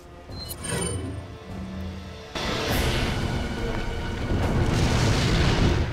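Fire grenades explode in Resident Evil 4 on the Wii, a deep rumbling boom that swells into a sustained roaring blast alongside game sounds.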